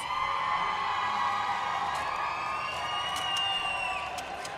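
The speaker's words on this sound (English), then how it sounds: "If you're cheering for the Red Alliance, let's give them a shout" A crowd at a 2024 FIRST Robotics event in Rochester, NY cheers, whoops and shouts for the Red Alliance, a loud sustained roar with high yells and whistles rising over it.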